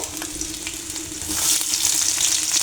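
Onions drop into hot oil where garlic is already frying for a flat-bean bhorta, and the close sizzle swells louder and brighter partway through.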